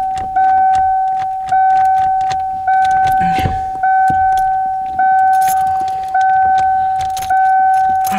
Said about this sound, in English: see if I can get this key to turn off